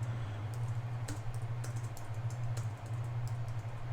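Keys clatter steadily on a computer keyboard, a continuous run of soft taps over a low constant hum.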